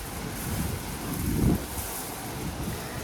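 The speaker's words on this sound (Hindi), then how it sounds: "बारिश है और काफ़ी ज़्यादा जो है वो तेज़ हवा के साथ" A dense, continuous roar of heavy rain and gusting wind, loud and close, buffeting the microphone with a brief louder surge midway.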